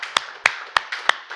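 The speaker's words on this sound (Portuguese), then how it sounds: "Pode aplaudir a esse nome" Church congregation clapping in a slow, even beat, five sharp claps spaced about a third of a second apart over a soft background of scattered applause.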